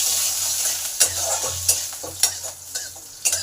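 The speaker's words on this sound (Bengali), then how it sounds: "এই লঙ্কার জিরেটা একটু ভালো করে ভেজে নেব।" Green chilli and whole cumin seeds frying in oil in a pan for a Bengali radish greens dish, a steady close sizzle broken by several sharp stirring scrapes.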